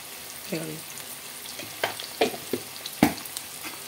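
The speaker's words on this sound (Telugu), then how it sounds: "ఇప్పుడు మనం ఉల్లిపాయలు మగ్గనిద్దామండి" Onions sizzle gently in a pan with salt and turmeric, a low steady hiss broken by scattered scrapes and taps from a spoon stirring, close and quiet.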